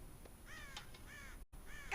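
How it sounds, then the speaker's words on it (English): Crows caw repeatedly in the Red Dead Redemption video game, several harsh calls in quick succession over steady ambient background noise, moderately loud with no speech. "God damn crows!"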